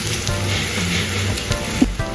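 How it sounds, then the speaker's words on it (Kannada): Green chillies and onion frying in a pan with a steady, soft sizzle and hiss throughout, plus a couple of faint utensil taps near the end. "1-2 ಹಸಿಮೆಣಸಿಕಾಯಿ, ಈರುಳ್ಳಿ, ನೋಡಿ ಸ್ವಲ್ಪ ಫ್ರೈ ಆಗಿದೆ."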